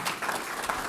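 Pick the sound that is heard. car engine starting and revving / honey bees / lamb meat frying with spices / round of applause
round of applause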